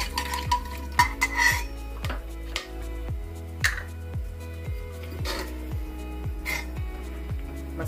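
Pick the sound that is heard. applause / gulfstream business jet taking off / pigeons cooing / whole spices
whole spices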